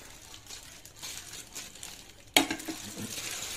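Crab-leg greens tossed with seafood, peanuts and herbs in a salad bowl give a steady close rustling and crinkling, with a sharp clatter partway through followed by livelier mixing.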